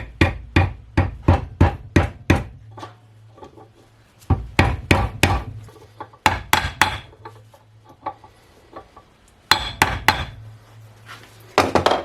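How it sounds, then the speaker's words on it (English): Rapid bursts of sharp wooden mallet blows in clusters, loud and close, with short pauses between volleys, hammering a differential seal into its housing on a Mercedes Vito W639. "use a mallet to push it down"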